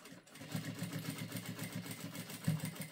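A sewing machine backstitches the seam of a fabric shoe bag, a faint, quick rhythmic whirring stitch pattern running steadily throughout.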